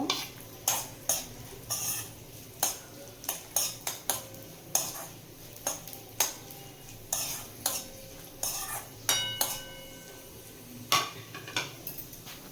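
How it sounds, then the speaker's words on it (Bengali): Cashews fry over low heat in a pan while a spoon stirs them, giving sharp rhythmic metal scrapes and clinks at regular intervals over a soft background sizzle. "কাজুটা দিয়ে দেব গ্যাসটা কিন্তু কমিয়ে রেখে একটু ভাজা ভাজা করে নিতে হবে"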